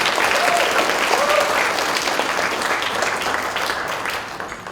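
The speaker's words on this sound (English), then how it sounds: "Give a round of applause for the potential villain." Convention crowd at a Chicago comic and entertainment expo panel breaks into sustained applause, a dense wash of clapping with a few cheers, fading slightly toward the end.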